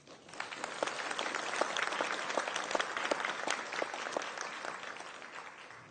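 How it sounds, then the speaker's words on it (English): A seated audience at a civic gathering in Toowoomba, Australia, claps in sustained, even applause, a dense patter of many hands that holds steady for several seconds before easing slightly. "A round of applause, please."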